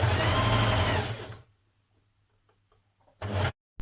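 A sewing machine stitches the layered side seam of a sweatshirt, a loud steady whir for over a second, then silence with faint ticks before a second short burst of stitching.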